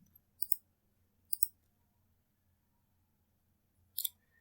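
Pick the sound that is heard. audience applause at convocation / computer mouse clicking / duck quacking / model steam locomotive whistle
computer mouse clicking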